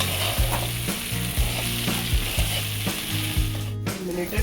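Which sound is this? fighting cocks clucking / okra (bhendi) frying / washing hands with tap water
okra (bhendi) frying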